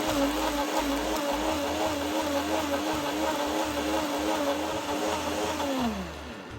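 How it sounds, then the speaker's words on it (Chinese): An electric blender grinds soaked dried shrimp with water into a paste for satay peanut sauce, a steady loud motor whir with a pulsing low churn that winds down at the end. "开启搅拌器，将食材搅成糊状。"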